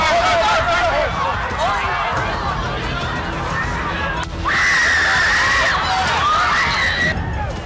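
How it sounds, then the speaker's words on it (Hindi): Crowd at a political rally screaming and shouting in panic right after gunshots, a dense continuous babble of many raised voices with sharper shrieks rising out of it, loud and sustained throughout. "ट्रंप के नीचे गिरते ही रैली में चीख पुकार मच गई।"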